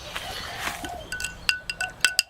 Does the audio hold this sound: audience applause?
no